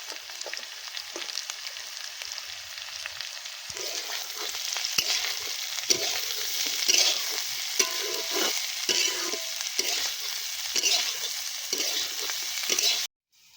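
Onions sizzling in a pan with ginger and garlic during outdoor jungle cooking, a steady bright hiss broken by repeated scraping stirs, then stopping abruptly at the end.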